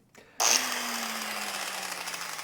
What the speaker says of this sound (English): I'm not trying to cut all the way through this 4 inches of concrete. I just want to scribe it